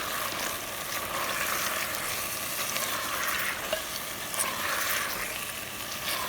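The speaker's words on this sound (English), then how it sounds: "And then we will add spices to it as well. And we will stir it." Spiced okra stirred in a clay pot over a village cooking fire, a steady loud sizzle of frying with soft scraping stir strokes running underneath, close up and continuous with no talking.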